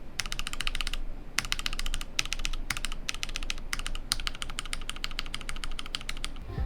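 Rapid typing on a Nooir Noland N1 magnetic levitating keyboard fitted with sound domes, bursts of quick crisp keystrokes separated by short pauses, close and clear with no talking.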